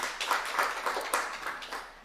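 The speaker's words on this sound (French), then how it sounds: "Applaudissements pour cette belle philosophie" An audience at a launch event for a solidarity mobility initiatives programme claps steadily, the applause moderately close and even in level with no voices over it.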